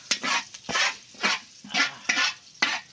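Garlic sautés in a pan with repeated bursts of scraping stirring over a steady hot sizzle, about six strokes in three seconds, close and loud with no talking.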